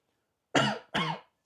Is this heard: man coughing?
yes